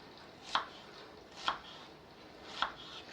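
A knife cuts vegetables for airfryer-roasted Toulouse sausage and vegetables: three separate crisp chops on a board, evenly spaced, close and fairly quiet, with no voices.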